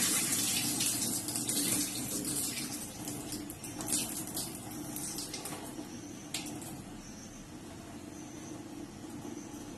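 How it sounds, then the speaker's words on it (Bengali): Plenty of running water splashes steadily over flattened rice (chira) for one quick rinse, a continuous close hiss and patter with no voices. "বেশি করে জল দিয়ে একবারই চিড়েটা আমি ধুয়ে নিলাম"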